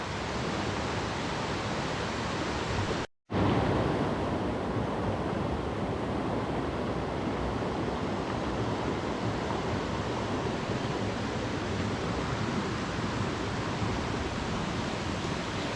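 A Scottish river near Cortachy pours past a deep pool under an old bridge, a loud, broad, unbroken rush of water with some wind buffeting the microphone and a brief cut near the start.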